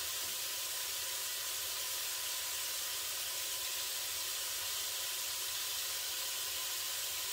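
Ground beef cooking in a pot gives a steady, even sizzling hiss that stays constant throughout, close by with no talking.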